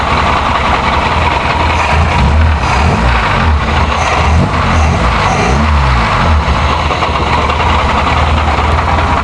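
A 1984 Shelby car engine idles steadily up close, a loud, continuous low rumble with a slightly uneven, shaky pulse from an engine that has sat unused for a while.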